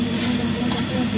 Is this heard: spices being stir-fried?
yes